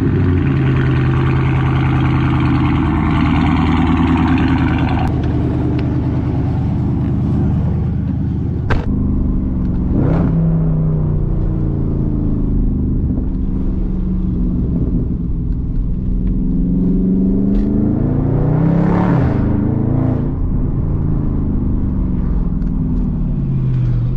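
Dodge Charger 392 Scatpack Widebody, lowered, with a loud continuous engine rumble that swells in several revs over a steady idle, close and alone with no talk.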